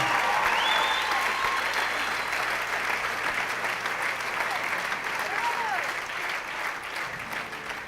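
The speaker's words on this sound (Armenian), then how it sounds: "Մի հատ լավ ծափ ժողովուրդ" A concert audience at the Alex Theater applauds warmly, a full, sustained burst of clapping that slowly tapers. A voice and a brief tonal sweep rise over it.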